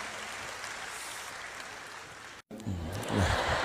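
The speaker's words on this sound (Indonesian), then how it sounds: "Tepuk tangan buat rektor kita tercinta." Applause from a university audience at a stand-up comedy show, a broad wash of clapping with a brief dropout, followed by a voice speaking over it.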